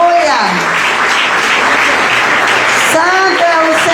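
Congregation applause at a church worship service, a dense, loud wash of clapping filling the room, with voices speaking or calling out over it at the start and end.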